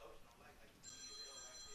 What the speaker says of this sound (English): I think that's the governor's phone ringing over there.